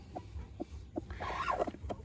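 A hen clucks softly in a backyard coop, a few short rhythmic clucks followed by a longer drawn-out cackle, close by over a steady hum of background noise.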